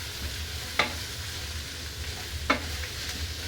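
Green chili, ginger, garlic, cinnamon, cloves and curry leaves frying in a pan for nombu kanji, a steady gentle sizzle close by, broken by two brief spatula knocks.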